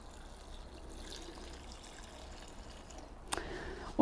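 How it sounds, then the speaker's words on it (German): Vegetable broth is poured into a Dutch oven for a Mexican fire pot stew, a short splashing pour that starts near the end after near silence. "ich gieße erstmal mit der Brühe auf"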